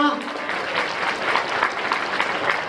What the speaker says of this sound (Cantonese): 各位再俾啲掌聲歡迎我哋兩位新人企喺台上面好唔好啊